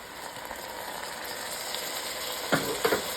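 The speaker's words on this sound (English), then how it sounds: "I'm going to turn up the heat up to high, and I'm just going to saute these for about 5 minutes until they're reduced" Pickles, spices, onions and celery sauté over high heat in a pot for smoked rib and pickle soup, giving a steady close hiss. A couple of sharp scrapes or clinks from stirring come near the end.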